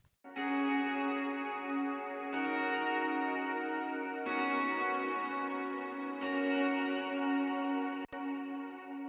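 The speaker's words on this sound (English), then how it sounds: "First we have this clean guitars." Clean electric rhythm guitar chords from a cover ring out with reverb and echo, struck roughly every two seconds, each sustaining and blending into the next.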